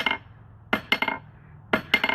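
A hammer strikes a railroad rail used as an anvil. Three bursts of ringing metallic blows each bounce into quick rebound clinks, close and loud, with no talk.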